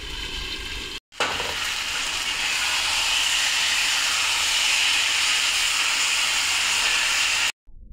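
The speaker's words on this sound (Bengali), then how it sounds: "এবার ঢাকন সরিয়ে ভালোভাবে সবজিটি নেড়ে চেড়ে নেব" Chopped vegetables being stirred in an uncovered pan while cooking alongside fish roe, giving a loud, steady sizzle and hiss that breaks off briefly twice, near the start and near the end.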